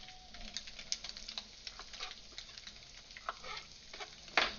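Tofu frying in a pan while being stirred, a steady soft sizzle with scattered light taps and scrapes of the utensil, faint and close, ending with a slightly louder scrape.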